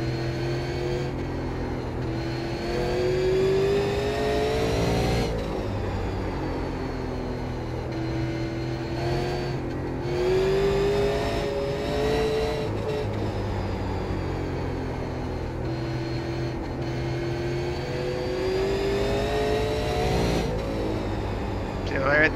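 Super late model race car engine in iRacing at Oxford Plains, a steady droning whine with rising and falling pitch sweeps as the car laps, loud and continuous, with someone talking over it.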